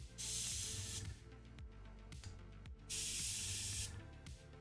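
Spray paint can hissing onto miniature models in loud bursts, two long sprays and several shorter puffs, close by over a low musical background.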